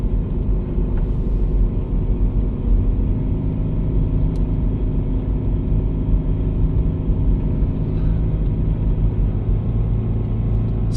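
A six-speed Subaru BRZ on Nokian Hakkapeliitta tyres climbs a snowy mountain pass, its engine a steady, loud low rumble droning close and unbroken throughout.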